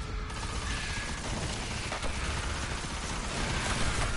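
Dense, sustained gunfire from a PS4 video game fills the whole stretch as a loud, unbroken rattle of overlapping shots with mechanical clatter, and no voices come through.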